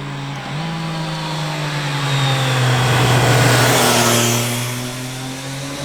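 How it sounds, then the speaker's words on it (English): A Triumph 660 motorcycle engine pulls steadily while riding, its revs held low with short shifting; a smooth, droning note climbs, dips briefly at a shift, then swells with rushing wind before easing off, close and fairly loud. "the nice thing about this 660 engine is you can short shift a bit and keep the revs a little bit lower"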